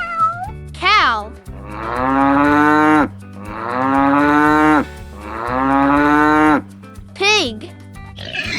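Three long, loud cow moos in a row over a steady musical backing, with short sung or spoken interjections between them, in a children's song of farm animal sounds.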